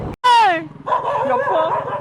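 A frightened dog near a house on a monsoon trip to Coorg lets out a loud, sharp yelp, then keeps up lower whining barks, with a voice mixed in.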